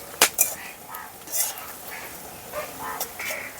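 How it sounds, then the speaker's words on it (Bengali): Chopped onions fry in a pan with garam masala for a village-style chicken liver dish. They sizzle softly while a utensil clatters and scrapes against the pan in irregular, close bursts. "পেঁয়াজটাকে লাল করে ভেজে নেব।"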